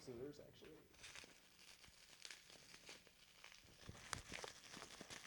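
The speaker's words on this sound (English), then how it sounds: "This one's wrapped in bubble wrap." Bubble wrap is crinkled and torn off a packaged video game, with irregular crackles, rustles and tearing sounds close to the microphone, while people talk over the handling.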